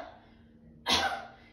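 A single sharp cough from one person, demonstrated while engaging the pelvic floor, bursts out loudly after a quiet stretch and fades quickly.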